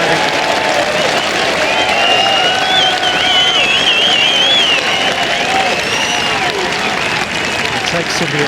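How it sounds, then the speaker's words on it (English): A golf crowd at the BMW PGA Championship applauds Rory McIlroy's birdie finish: dense, sustained clapping and cheering from a large gallery that carries on steadily throughout. "Takes in the applause."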